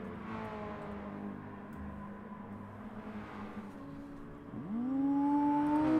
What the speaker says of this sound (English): Let you guys listen to those awesome race car sounds